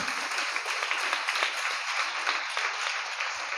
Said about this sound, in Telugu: చప్పట్లు కూడా దేవుని మహింపరచుదాం.